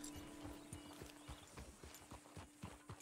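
Horse hooves clip-clop in Red Dead Redemption 2 as the horse sets off, a steady quick rhythm of light thuds beneath a faint continuous hum, with no talk.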